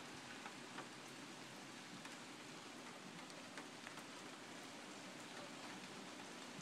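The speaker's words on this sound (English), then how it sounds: "it's pouring rain." Pouring rain drumming steadily on a car roof and through an open sunroof, a dense, constant hiss of drops with scattered louder splats, close and unbroken.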